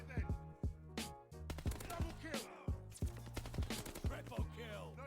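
Rapid gunfire in Call of Duty from an M1928 submachine gun and other weapons, loud close bursts of sharp repeated shots at an uneven rhythm over a constant low hum.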